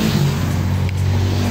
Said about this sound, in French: Voilà le bruit des voitures, motos.